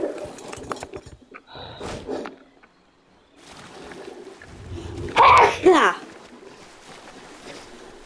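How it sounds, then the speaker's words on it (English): A single loud, close sneeze bursts out in a burst of two peaks amid casual voices chatting, standing clearly above the quieter talk around it. "Bless you."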